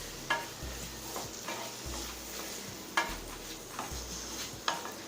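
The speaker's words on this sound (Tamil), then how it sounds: "இப்போ இது ரெண்டுத்தையும் நல்லா வதக்கிக்கலாங்க." Brinjal and potatoes stir-fried in a pan, with a soft hiss of frying and a spoon scraping and clanking against the pan in regular strokes about every second, fairly quiet and close, with no talking.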